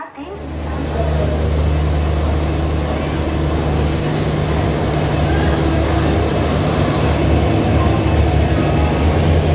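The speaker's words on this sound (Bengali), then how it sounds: "আমাদের ভাইজ্যাক যাওয়ার ট্রেন রয়েছে 22 নম্বর প্ল্যাটফর্মে" Loud, steady rumble of a train at a platform in Howrah station, a continuous low drone with a hum holding level throughout, close and dense, with no clear words.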